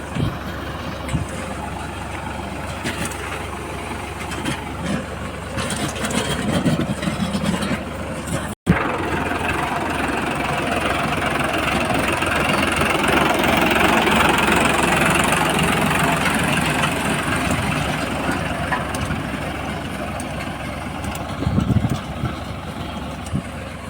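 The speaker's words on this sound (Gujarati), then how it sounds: "ઢેફા ઉખેડતું જાય ટ્રેક્ટર" A mini tractor engine runs steadily while tilling a field and breaking up clods, a loud, continuous rumbling drone with a rough, knocking texture that swells slightly midway, heard close and without talk.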